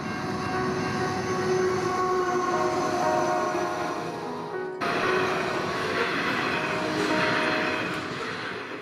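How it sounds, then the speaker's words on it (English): A Horizon coal freight train passes on the Ulan line in New South Wales, a loud, close rumble of wagons with a sustained horn sounding over it. "The Horizon freight train is a major coal hauler in New South Wales."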